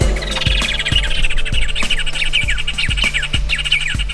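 Dawn birdsong with the saí-andorinha and red macaws, a dense chorus of bright chirps, trills and whistles layered together, accompanied by regular low thumps and a steady low hum in the background.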